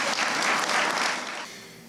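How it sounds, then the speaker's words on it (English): An audience applauds graduating nursing students at a pinning ceremony, a brief burst of loud crowd clapping that fades out after about a second and a half. "Give them one more round of applause."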